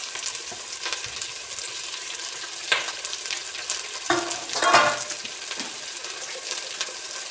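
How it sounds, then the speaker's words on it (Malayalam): Onion, ginger and garlic frying in hot oil, a continuous hiss and crackle with a few stirring scrapes and clinks of a spoon against the pan, close by and without speech. "അതുപോലെ ഇഞ്ചിയും വെളുത്തുള്ളി ഇട്ട് കൊടുക്കണ്ടേ."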